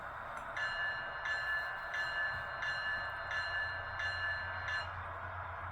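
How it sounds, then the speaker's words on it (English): A ScaleTrains BNSF ET44C4 HO-scale model locomotive bell from a LokSound 5 decoder dings steadily in a regular repeating rhythm, fairly faint, with a soft motor hum underneath. "Function 1 is our bell."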